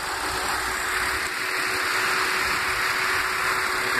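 A 2010 Audi Q5 with a V6 engine idles with the air conditioning running, making a steady, even hum with a constant whirring drone and no breaks.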